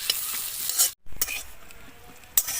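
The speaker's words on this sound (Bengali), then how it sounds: "তো কাজু বাদাম আর কিশমিশটা হালকা একটু ভেজে নেব।" Cashews and raisins fry lightly in ghee, a bright close sizzle broken by a few sharp clinks and scrapes of a spoon against the pan, with a brief drop to near silence.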